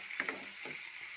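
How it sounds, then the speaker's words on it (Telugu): Onion pieces and green chillies frying in a pan, a soft steady sizzle with a couple of brief stirring scrapes near the start, quiet and close. "ఇలా పచ్చిమిరపకాయలు వేగిన తర్వాత ఉల్లిపాయ ముక్కలు వేసుకోవాలండి"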